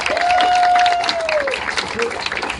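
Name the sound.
round of applause from audience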